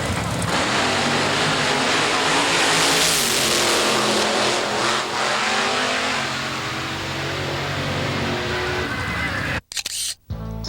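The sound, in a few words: nitro coupe hot rod drag racing run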